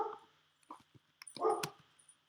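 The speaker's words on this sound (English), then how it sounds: "I bet you hear the dogs." Several dogs bark in the distance, faint scattered yips and barks in a quiet room, with short gaps between them.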